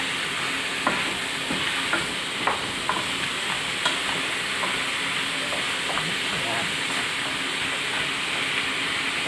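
Ginger and chili sizzle as they are sautéed in a pan for ginataang kalabasa with shrimp and crab: a steady, close frying hiss broken by scattered clicks from stirring, with no talking.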